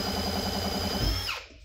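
A homemade belt-driven air compressor, powered by a drill whose chuck turns the belt, runs with a steady whining mechanical hum and rhythmic pulsing, then winds down and stops near the end.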